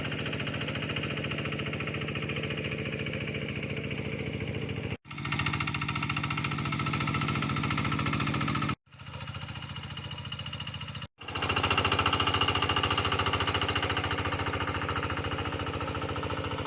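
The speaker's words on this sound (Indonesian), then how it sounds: "Saya baru tahu mesin bajak sawah ini ternyata nggak ada remnya." A hand tractor plough works a rice paddy field, its small engine chugging loudly and steadily with a dense knocking rhythm, broken by a few brief cuts before running on continuously.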